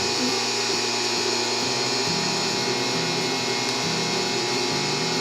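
A sewing machine runs steadily along the edges of a fabric face mask, its motor humming in a continuous mechanical drone with faint stitch rhythm, close and alone without talk.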